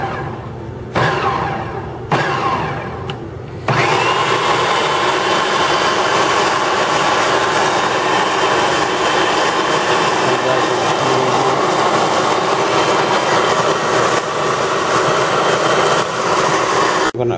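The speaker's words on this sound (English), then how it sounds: "Turn this processor on and combine this together." A food processor blends pistachio cupcake batter made with milk, pistachio extract and vanilla extract, starting with a few short pulses before settling into a loud, steady motor whir that runs close-up and unbroken to the end.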